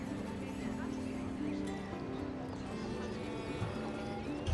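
Horses in the Assassin's Creed Odyssey video game, with rhythmic hoof clip-clops and a brief neigh mixed under steady background music and game ambience.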